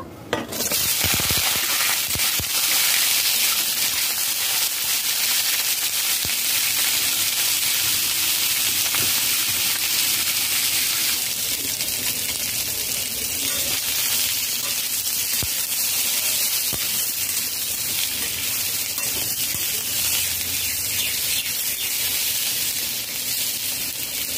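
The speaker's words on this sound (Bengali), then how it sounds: "মানকচু মিডিয়াম ফ্লেমে 5 মিনিট ভেজে নিয়েছি" Taro and potato pieces frying in oil over medium flame, a loud, continuous close hiss and sizzle that holds steady from start to finish with no talk.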